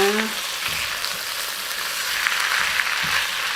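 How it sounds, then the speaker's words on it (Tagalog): Carrots, broccoli and green peas stir-frying with shrimp in a hot pan, giving a steady, close sizzle with light stirring scrapes throughout. "Nilagay na natin ang carrots at ang broccoli at ang green peas."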